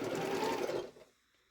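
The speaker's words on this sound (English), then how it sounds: "sew these together right here" A sewing machine stitching quilt block pieces together, a short close burst of rapid whirring stitches that stops abruptly after about a second.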